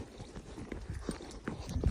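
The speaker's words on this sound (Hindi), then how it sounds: "बड़ी ज़बरदस्त सवारी करवाती है और बड़ी असील घोड़ी है" A mare's hooves clip-clop steadily during a horse ride, a rhythmic series of close, fairly loud hoofbeats.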